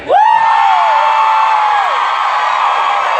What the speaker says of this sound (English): By a round of blood-curdling screams, who had a good time last night?